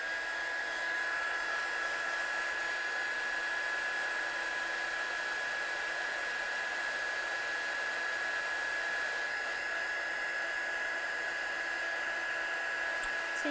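A heat gun drying a freshly stamped handmade card, a continuous, even whooshing blow with a steady high whine that holds unchanged throughout, close and fairly loud, with no voice.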